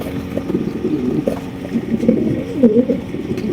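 A pair of racer pigeons coo softly and repeatedly at close range over a low steady background rumble.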